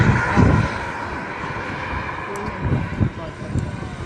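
A model aircraft takes off at the Long Marston model air show, its engine a steady loud drone with open-air wind rumble, while a commentator talks over it.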